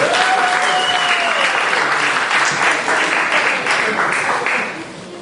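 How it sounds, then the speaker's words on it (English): Audience applause fills a magic show venue, dense steady clapping held at full strength throughout, with a few brief whoops riding on top before it tapers slightly at the end. "Give her a big round of applause."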